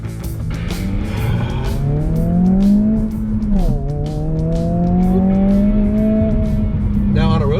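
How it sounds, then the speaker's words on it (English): A 2022 Honda Civic Si engine drones and rises steadily with a throaty exhaust note, dipping briefly mid-way then climbing again, loud and close throughout. "you get a nice sound that complements the exhaust, generated by the exhaust basically"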